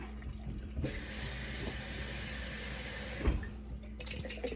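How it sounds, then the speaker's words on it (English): Steady broadband rush of running tap water, starting abruptly and stopping about three seconds later, while homemade butter is rinsed in a kitchen sink; a soft clunk near the end and low room hum. "I just rinse mine. Just rinse it."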